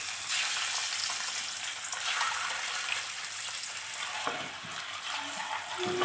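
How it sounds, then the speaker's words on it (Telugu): Boiled eggs frying in oil with turmeric in a pan for an egg masala curry: a dense, continuous hiss of sizzling close up, fairly loud and steady, with faint stirring and no speech. "ఇప్పుడు ఇందులోకి ముందుగా ఉడికించి పెట్టుకున్న ఎగ్స్ వేసి 5 మినిట్స్ ఫ్రై చేసుకోవాలి."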